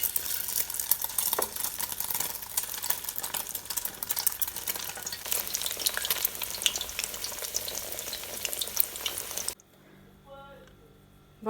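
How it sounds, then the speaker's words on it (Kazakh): Zucchini fries in oil with a steady, close hiss and crackle that lasts about nine seconds, then cuts off to near quiet. "Енді кәділерімізді де дәл солай қуырып аламыз."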